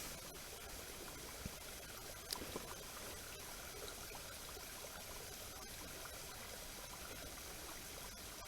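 Steady broadband rush of a waterfall running, constant and fairly loud throughout, with a brief knock near the middle and no talk.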